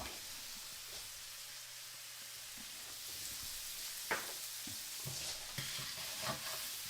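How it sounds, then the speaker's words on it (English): Pork chunks frying in a pan while a utensil stirs and scrapes the bottom, a soft steady sizzle broken by scattered scraping strokes and clinks, close but fairly quiet. "we're making sure to scrape that all up and not, really trying to break up any of those big chunks of pork in there"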